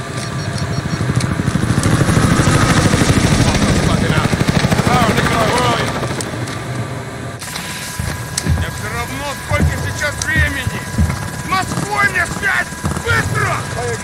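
A helicopter in the video game Modern Warfare 2019 makes a loud, steady rotor and engine drone that eases off partway through, with gunfire-like bursts and someone talking over it.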